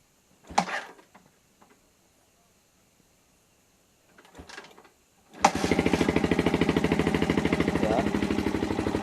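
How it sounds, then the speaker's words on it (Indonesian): A fuel-injected motorcycle is started without a battery: a few brief clicks and scrapes, then the engine catches and settles into a steady, loud, fast-pulsing idle. "Tapi motor bisa langsung nyala loh."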